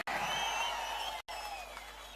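Crowd clapping at a political public meeting in Kuppam, a dense, steady wash of applause from a large gathering that breaks off briefly and then resumes.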